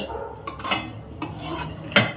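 Cooking pots are picked up, set down and swapped in a home kitchen while chicken curry is made. Several clattering metal knocks and scrapes come up close, with a sharp clank near the end and no talking.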